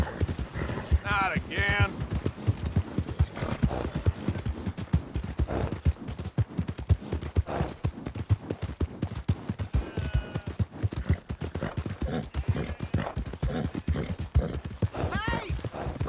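Steady clip-clop of horse hooves in Red Dead Redemption 2, a continuous trotting rhythm heard close, with a voice speaking briefly over it.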